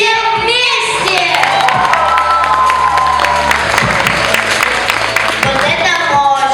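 Gala concert audience applauding and cheering, sustained loud clapping with shouts and children's voices over music, continuing steadily throughout.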